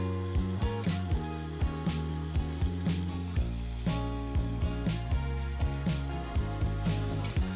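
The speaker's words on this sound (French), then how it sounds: "je vais saisir les lardons" Lardons sear in a frying pan, a constant close sizzle broken by regular sharp pops and clinks repeating roughly twice a second, with no talking.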